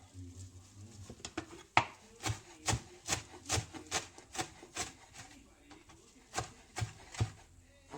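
Fresh coriander chopped roughly with a knife on a wooden board, a run of about a dozen sharp, distinct knife strikes in an uneven rhythm, close and clear, with quiet pauses between bursts.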